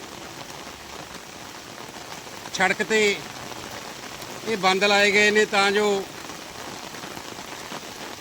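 Steady, heavy rain hisses throughout on the town streets of Tapa Mandi, Punjab, with someone speaking briefly twice over the downpour.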